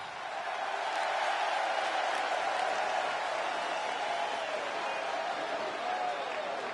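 A wrestling arena crowd cheers and applauds for a women's heavyweight championship bout, a loud sustained roar of clapping and shouting filling the hall, with a commentator's voice over it.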